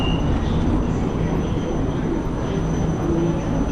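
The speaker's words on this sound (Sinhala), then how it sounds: "එනකොටම ට්‍රේන් එකක් ආවා." A train pulls into a station. Its loud, steady rumble fills the whole stretch as one continuous roar, with no breaks.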